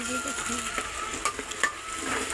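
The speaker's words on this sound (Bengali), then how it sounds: "এবার আমরা চালগুলো ভেজে নেবো" Rice frying in a pan for biryani, a steady sizzle broken by scraping stir strokes at irregular intervals, close and moderately loud with no voices.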